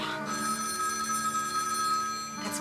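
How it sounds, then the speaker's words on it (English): A telephone rings with an incoming call, its steady electronic trill sounding close and clear for a couple of seconds, alone with no voices. "It's probably the woman now, calling to give me Sharon Collins' phone number"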